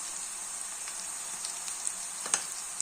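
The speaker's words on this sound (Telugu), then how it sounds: "కొంచెం పోపుకి పసుపు వేయాలి ఫ్రెండ్స్" Oil tempering for a brinjal masala sizzles and crackles steadily as turmeric is added, a soft continuous frying hiss with scattered pops and one brief stir, heard close with no talking.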